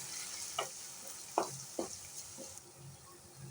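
A quiet, steady sizzle of ginger garlic paste frying in a pan, with a few soft scraping stirs and light ticks, no voices.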